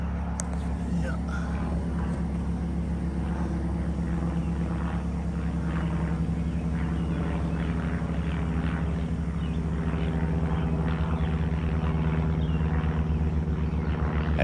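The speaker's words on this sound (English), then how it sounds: "That plane's flying over" A propeller plane drones steadily overhead above a garden, a continuous low engine hum that holds across the whole stretch with no talk over it.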